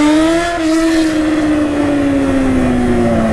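A Yamaha XJ6 motorcycle engine roars loud and close on an open avenue, holding a high, sustained drone that sinks slowly in pitch as it runs.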